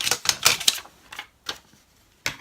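A rubber stamp is pressed repeatedly onto paper, giving quick close tapping knocks in a loose rhythm with short pauses, alone without talking.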